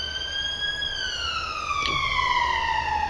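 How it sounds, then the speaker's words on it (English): A wailing siren sweeps by, its tone gliding steadily downward as it passes, heard over a low background rumble. "Siren's going past, sorry about that."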